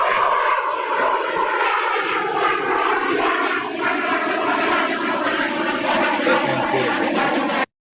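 A fixed-wing aircraft passes slowly overhead at a high, nose-up angle of attack while holding altitude, its steady engine roar loud and continuous before cutting off abruptly at the end.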